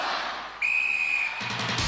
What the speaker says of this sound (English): Celebrities, you will go on my first whistle